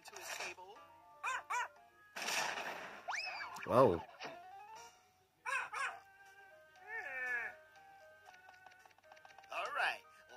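A cartoon dog from an SMG4 animation yips, whines and barks in short, sharp bursts, mixed with other cartoon sound effects and squeaky voices. A voice speaks briefly between the sounds.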